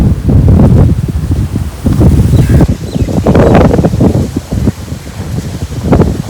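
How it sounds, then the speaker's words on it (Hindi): Strong gusts of wind across an open wheat field buffet the microphone in loud, roaring bursts, with rustling underneath and no voices. "इधर उससे भी ज़्यादा मज़ीद तेज़ हवा जो लगने वाली है"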